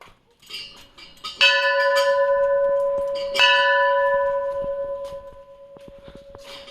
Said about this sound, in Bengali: ঘন্টাটা বাজা